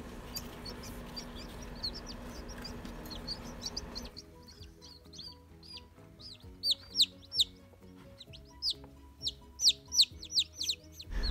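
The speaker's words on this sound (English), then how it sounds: "They're chirping at me to put this heating plate back down." Cochin bantam chicks chirping near a heating plate, with high, repeated peeps that grow louder and more frequent in the second half over a low background hum.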